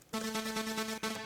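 A bright, harmonically rich synth uplifter in an FL Studio trance build-up, sustained and loud with a steady tone and a brief dip near the end before resuming, no voices over it.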